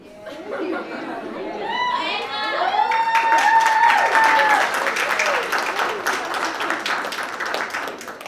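Applause and clapping ring out at a graduation-style ceremony, sustained crowd clapping building in the middle, mixed with chatter and cheering, with people talking and a voice calling out over it.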